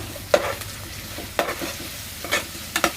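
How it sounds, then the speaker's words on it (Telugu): Ginger garlic paste frying in a pan for a fish curry gives a soft, steady sizzle, broken by several sharp stirring scrapes at irregular intervals. "ఇవి కూడా మంచిగా ఫ్రై అయిపోతుంది"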